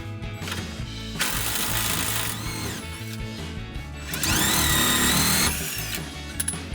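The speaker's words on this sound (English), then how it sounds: "Once it's loose, I'm going to use my impact gun." An impact gun rattles hard in sustained bursts on a rear shock bolt of a 2019-2025 Chevrolet Silverado 1500, loud and close with brief pauses and a whining spin-down between runs.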